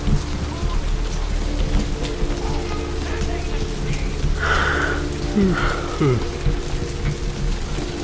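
Steady rain patters down in the Vampire: The Masquerade – Bloodlines video game, a dense continuous hiss with a low rumble of thunder underneath and a few faint tonal sounds drifting in midway.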